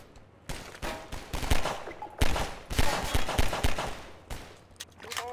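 Rapid bursts of gunfire from the Half-Life 2 video game, several volleys of sharp shots in quick succession with brief gaps between them, fairly loud and up close with no talk over them.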